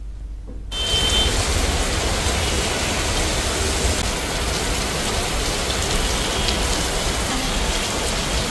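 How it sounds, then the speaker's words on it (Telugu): Heavy rain pours steadily across Hyderabad, a dense, loud, continuous hiss of downpour that begins abruptly after a brief quiet moment and holds without pause, with no voices present. "హైదరాబాద్లోని పలు ప్రాంతాల్లో వర్షం కురుస్తుంది"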